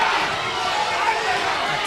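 A boxing crowd roars at a live showdown, a loud dense wash of cheering voices sustained for a couple of seconds.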